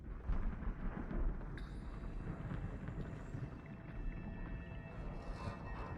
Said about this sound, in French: les bruits de tonnerre, Ah, ça me titille, comme on me dit